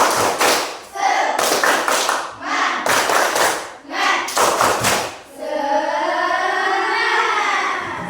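A group at an ice-breaking session bursts into rhythmic patterned clapping in several loud blocks, followed by a sustained rising and falling voiced tone, with speech mixed in.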